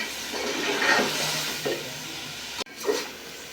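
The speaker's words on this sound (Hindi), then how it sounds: "पानी डाल रहे हैं" Water is poured steadily into a cooking pot holding 1 kilogram of rice for chicken biryani, a continuous close splashing rush broken by a brief pause near the end before the flow resumes.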